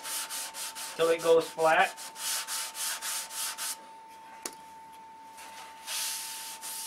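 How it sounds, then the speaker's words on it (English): A control line model airplane fuselage is sanded at the seam where the side meets the top block. Close, rhythmic back-and-forth strokes are briefly joined by a short spoken remark, then pause and resume more lightly. "You want to sand that out."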